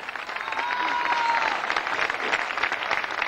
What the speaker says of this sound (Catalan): i ja aplaudim més fort, Cati.